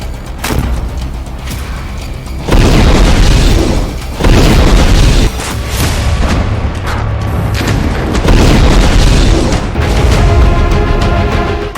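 Loud explosions and booming blasts come from a Hamas attack on Israeli tanks and infantry in Gaza, with heavy rumbling impacts following one another over a sustained roar of gunfire and debris.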